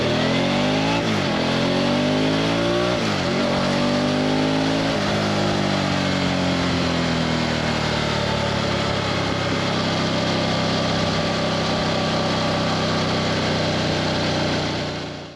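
Harley-Davidson Pan America Special motorcycle with a Milwaukee-Eight 1250cc V-twin engine, loud and close, revving up in a few sharp rising bursts before settling into a sustained high-rpm drone that fades at the end.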